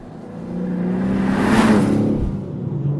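2025 BMW M3 with a manual gearbox on a drive, engine note swelling to a peak of whooshing revs before easing back, heard steadily without speech.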